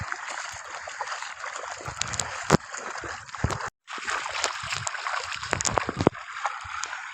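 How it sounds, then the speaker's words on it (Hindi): Fast-moving floodwater pours across a flooded village road beside submerged crop fields, a steady loud rushing and splashing broken by a brief silent gap, with no talk over it. "पानी का बहाव जो है वो इतना तेज़ है"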